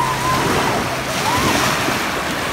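Sea waves wash steadily along the shore with a broad, constant rush, mixed with wind buffeting the microphone, loud and close with no clear speech.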